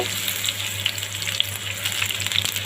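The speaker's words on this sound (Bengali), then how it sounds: "এক টেবিল চামচ রসুন কুচি দিয়ে দিলাম তার সাথে দুইটা শুকনো মরিচি দিয়ে দিলাম দিয়ে আমি এটাকে ভালো করে ভেজে ব্রাউন কালার করে নিব" Chopped garlic and two dried chillies fry in oil for Chittagong-style kala bhuna, making a soft, even hiss with a few faint pops over a low hum.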